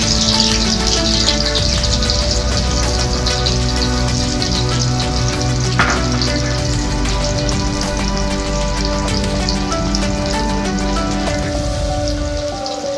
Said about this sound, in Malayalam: ചതച്ച് വെച്ചിരിക്കുന്ന ഉള്ളിയും മുളകും വറ്റൽമുളകും കൂടി ഇട്ട് കൊടുക്കും.